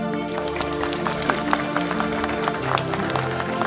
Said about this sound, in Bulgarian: Дами и господа, моля вашите аплодисменти за екипа на BTL.